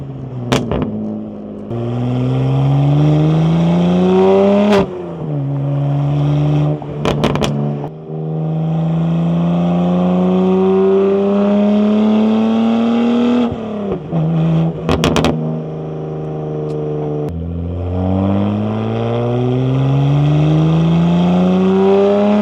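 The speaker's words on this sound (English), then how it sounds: "I'm just gonna turn this mic off so you can hear the exhaust in its glory." A BMW M2's exhaust revs hard and close, engine pitch climbing and dropping through repeated throttle blips and gear changes, loud and raw with no talking.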